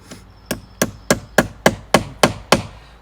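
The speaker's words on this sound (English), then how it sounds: "punch a flat onto the end of the fastener head, you know, with a punch" Nine sharp metallic hammer strikes on a punch, evenly spaced about a third of a second apart, center punching a fastener head during sailing yacht restoration work, close and loud with no talking.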